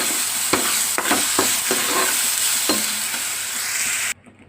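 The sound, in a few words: masala mixture frying and being stirred for chicken curry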